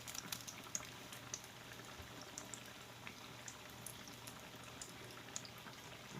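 Soft, steady frying of mini corn dogs in oil in a skillet, bubbling with scattered small pops and crackles, quiet and continuous with no talking.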